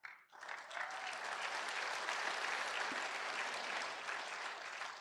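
A church congregation applauding during a Tagalog sermon, a sustained dense wave of clapping from many hands that starts abruptly, holds steady and carries on to the end, slightly distant.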